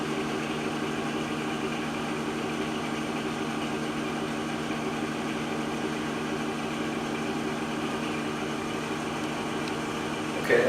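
An HVAC blower wheel coated with Sunasol lubricant runs in a steady, even hum with faint tonal whine, holding level throughout before a brief bump at the very end.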